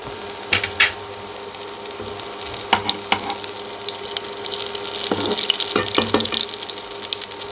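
Soyabean kababs frying in oil in a kadai, giving a steady crackling sizzle with scattered louder pops and spits throughout, no voices.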